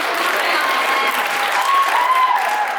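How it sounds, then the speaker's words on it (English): A crowd at a stand-up comedy show applauds steadily, a loud continuous wash of clapping with no break. "Go ahead, clap."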